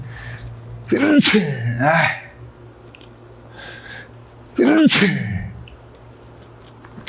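Two loud, close sneezes a few seconds apart, each a sharp burst with a voiced trailing exhale, separated by quiet background.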